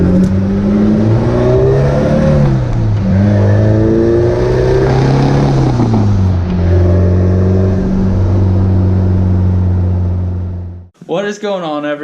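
A turbocharged Mazda B3000 pickup engine revs hard under boost, its harmonic drone rising and falling through repeated pulls for about eleven seconds before cutting off abruptly, followed by a brief burst of close speech.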